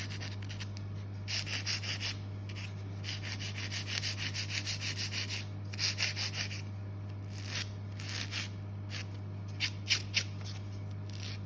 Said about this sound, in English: Obviously with a nail of this length, you do need to keep supporting while you are filing it.